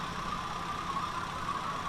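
A 5.6-litre V8 car engine idles in the video game Drive Beyond Horizons with a brief, even, steady hum and no talking.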